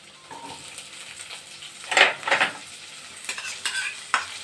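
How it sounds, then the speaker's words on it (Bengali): Chopped onions go into a hot pan for a palak paneer and fry, giving a steady sizzle with louder stirring scrapes in bursts near the middle and end, close and alone. "পেঁয়াজগুলো দিয়ে দিলাম পেঁয়াজগুলো আমি একটু ভেজে নিচ্ছি"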